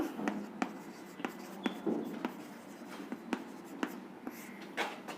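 Chalk or marker writing on a board during a chemistry lesson, with a series of short, crisp strokes and taps at irregular intervals, fairly close and clear with no speech over it.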